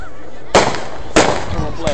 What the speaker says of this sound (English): What it really is, man, is all about these fireworks right now.